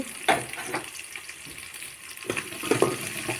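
Onions, chillies and curry leaves frying in a pan for chicken varuval, a steady soft sizzle with a few louder stirring scrapes near the start and end.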